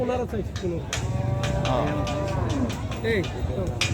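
Several cows moo with long, low drawn-out calls amid a busy crowd at the Lebukhali cattle market during Eid al-Adha, with voices chattering in the background.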